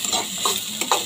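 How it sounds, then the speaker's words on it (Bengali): Potato pieces fry in a pan and are stirred in short scraping bursts over a steady, close sizzle. "তো আলুটাকে আমি ভেজে নিচ্ছি।"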